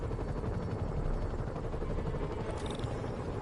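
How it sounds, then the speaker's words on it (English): Helicopters flying in a video game, a loud steady rotor thrum with dense low rumble filling the whole stretch, no voices. "Bet I can use those helicopters to swing"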